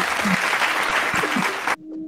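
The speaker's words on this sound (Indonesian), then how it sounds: "Kita berikan tepuk tangan dulu" A room full of elderly people at a community gathering bursts into steady, dense applause for about two seconds, then it stops abruptly, leaving a faint hum.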